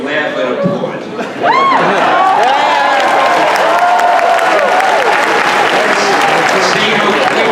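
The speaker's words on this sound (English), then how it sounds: "whatever I say," A convention crowd at a Q&A panel erupts into loud applause with cheers and whoops, starting after a short quieter stretch and then holding at full, dense volume.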